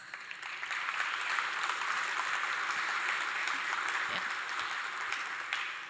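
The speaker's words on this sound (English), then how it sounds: "Please give him a round of applause." A conference audience gives a speaker a steady round of applause, dense and even from start to finish, with no other sound standing out.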